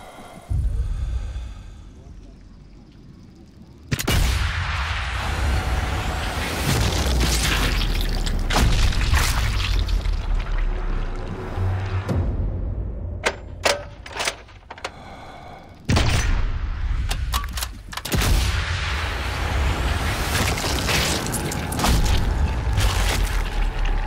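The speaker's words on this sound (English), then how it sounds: "Explosion." Heavy explosions and gunfire fill a Battlefield 2042 match, with loud booms, thuds and bursts of shots over a continuous roar of combat, interrupted by a sharp drop midway before the barrage resumes.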